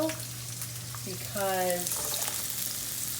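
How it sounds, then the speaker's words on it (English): Half a white onion frying in very hot olive oil in a pan, a steady sizzle with a brief hiss as it hits, while a person talks over it. "You can't fry with olive oil"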